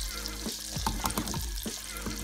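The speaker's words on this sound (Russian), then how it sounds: "На скорую добавляю сливочное масло на максимальном огне" Butter sizzles in a pan over high heat, a steady close crackle with occasional scrapes of stirring, no talk.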